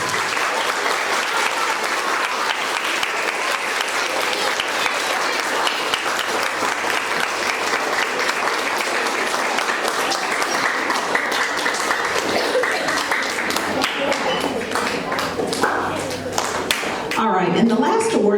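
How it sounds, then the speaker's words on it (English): School audience applauding perfect attendance students at a quarter awards assembly; dense, steady clapping fills the room for the whole stretch, briefly fading near the end. "let's give these perfect attendance students a round of applause"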